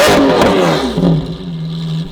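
A Lamborghini Aventador SV Roadster's 6.5-litre naturally aspirated V12 revs loudly and close, its pitch climbing and falling through sharp throttle blips with no talking.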